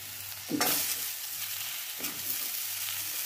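Spinach with aubergine, salt and turmeric fries in a pan, a constant hissing sizzle with two distinct stirring scrapes surging up, one early and one near the middle.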